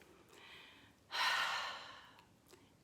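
Deep breathing: a soft inhale, then a louder, longer airy breath lasting about a second that fades gradually, with faint breaths around it, close and quiet.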